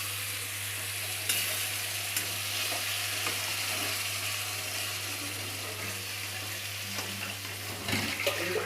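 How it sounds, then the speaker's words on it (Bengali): Ground spice paste being sautéed in a pan for paneer posto, a steady moderate sizzle with occasional spatula scrapes and a low background hum, no speech. "এই ফার্স্টে এই মশলাটাকে খানিকক্ষণ কষিয়ে নেব আমরা।"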